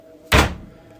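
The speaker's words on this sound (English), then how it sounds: "the front door slammed shut" A front door slams shut in a single heavy, close thud with a brief booming tail, heard alone.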